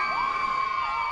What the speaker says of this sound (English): you're hearing the girls cheer